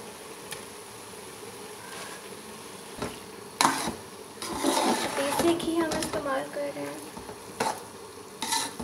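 Desi ghee sizzles and crackles in a pan for carrot halwa, with clinks from a spoon and a busier bubbling stretch in the middle, near and fairly loud.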